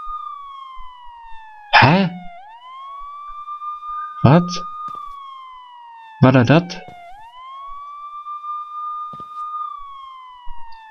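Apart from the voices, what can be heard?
police car siren in video game Sneak Thief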